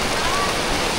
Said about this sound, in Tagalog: Biglang bumuhos yung malakas sa ulan.